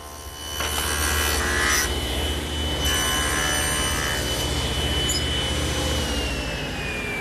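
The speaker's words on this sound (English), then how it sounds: "The first cut is on the face of the rail, 1 1/4 inches from the end and a 1/4 inch deep." A table saw cuts a tenon face on a mesquite rail, a loud, steady, high whining cut with a brief dip partway through, then the blade runs on and slowly winds down.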